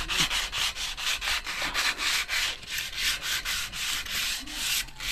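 Sandpaper rubbing back and forth over rusty metal after the thick rust has been scraped off, a steady run of close, loud abrasive strokes in quick rhythm with no talking.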